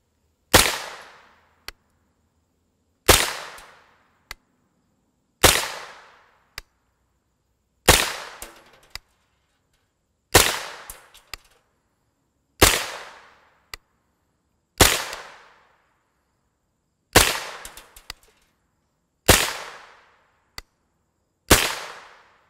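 An STV Scorpio 9mm carbine with a 16-inch barrel and a muzzle brake fires 124-grain FMJ rounds, ten loud, sharp gunshots at regular intervals of about two seconds, each followed by a short decaying echo, with no talking.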